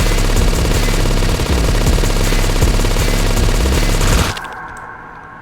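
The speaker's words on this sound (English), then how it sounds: "I guess I'll just hold the gun down the whole time" Continuous, loud automatic gunfire in the boomer shooter game Withdrawal, a dense unbroken stream of rapid shots that cuts off abruptly near the end, leaving a faint fading tail.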